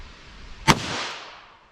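A single sharp gunshot from a heavy .38 Special +P Buffalo Bore round, a loud close crack followed by a short decaying echo against a quiet background.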